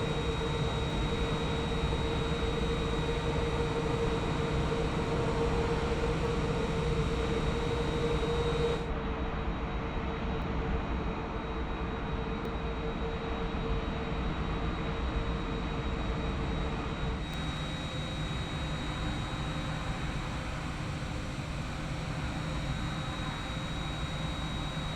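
Jet engines of a Boeing 787-10 taxiing in a flight simulator make a continuous broadband rumble and hum with a high whine. The engine sound holds steady throughout, with a slight drop partway through.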